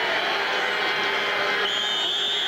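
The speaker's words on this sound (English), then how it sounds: "Listen to this crowd." A large crowd at a 1990 college football game between Morningside and NDSU roars in a broad, sustained wash of noise from a packed stadium, with a whistle-like tone rising faintly near the end.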